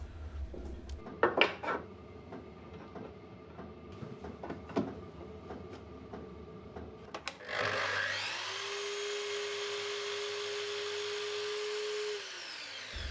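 A saw cuts an angle across a timber piece for a router-made bowl jig: some light handling knocks first, then the blade spins up into a loud steady whine that holds for several seconds before winding down.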